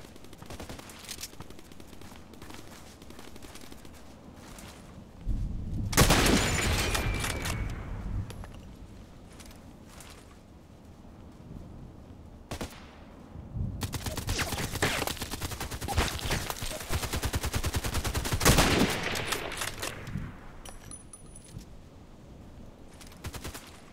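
Sniper rifle gunfire in a video game, with bursts of loud shots and rapid volleys around the middle and again later, set against continuous game ambience and no talking.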